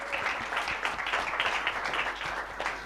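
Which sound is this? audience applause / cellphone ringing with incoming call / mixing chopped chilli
audience applause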